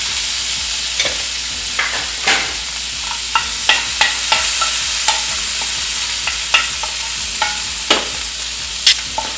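Chicken pieces with a little turmeric sizzle steadily in a hot pan, broken by repeated sharp scrapes and clacks of a stirring spoon.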